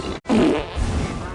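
A cartoonish fart sound effect from a Shrek film: one loud, close, sputtering blast with a rumbling tail, heard on its own.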